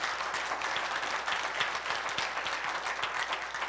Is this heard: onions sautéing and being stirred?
no